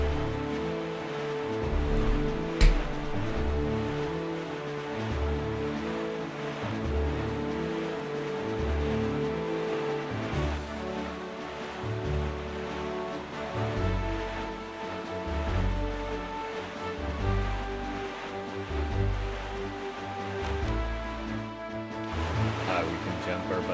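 Ocean waves while sailing on the open sea in The Legend of Zelda: The Wind Waker, rolling and washing in a steady rhythm under game music, with a person talking over it.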